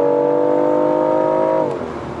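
A 2019 BMW i8 Roadster accelerating, its engine note climbing smoothly and loudly before a sudden drop in pitch near the end, as if shifting up, then settling into a lower hum.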